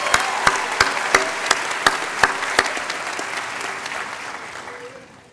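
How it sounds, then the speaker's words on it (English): Audience applause fills a commencement ceremony hall at Northwest's 2013 spring afternoon ceremony, a dense steady wash of clapping with a few sharp, close claps popping out at regular intervals before it tapers off at the end. "Give yourselves a round of applause"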